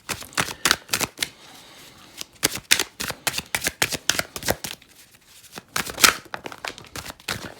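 Tarot cards are shuffled and drawn close up in quick bursts of crisp riffling and flicking, with a few brief pauses between the runs of rapid slaps.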